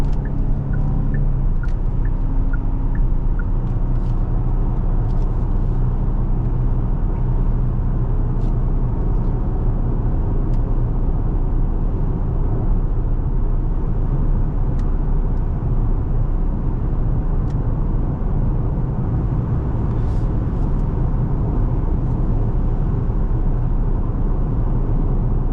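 A 2023 Genesis GV70 3.5T holds a low gear under acceleration in Sport Plus, giving a steady, loud engine and road drone inside the cabin that runs unbroken for the whole stretch.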